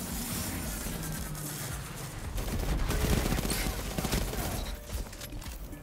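SMG gunfire in a video game firing in dense, sustained bursts, loud and continuous across the span with clattering shots layered over game noise.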